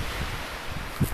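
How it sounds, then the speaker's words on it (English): Wind buffets the microphone on a mountain top, a steady broadband rush with a few brief gusts, close and fairly loud throughout. "It's a little windy."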